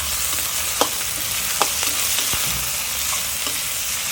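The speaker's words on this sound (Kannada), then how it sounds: "ಸೊ ಟೊಮೊಟೊ ಸ್ವಲ್ಪ ಚೆನ್ನಾಗಿ ಫ್ರೈ ಮಾಡ್ಕೊಳ್ಳಿ." Tomatoes frying in oil in a pan give a steady close sizzle, with a few sharp stir clicks from the spoon against the pan.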